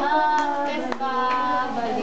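Children at school clap their hands in rhythm while singing a Filipino farewell song, with a few crisp claps cutting through the melodic voices.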